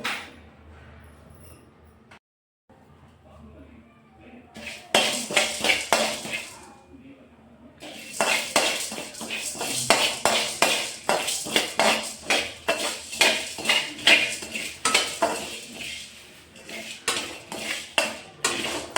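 Green chilies and cumin seeds stir-fried in a pan for pepper chicken make repeated metallic scraping and clinking of a spatula against the pan, loud and close, after a quieter opening stretch.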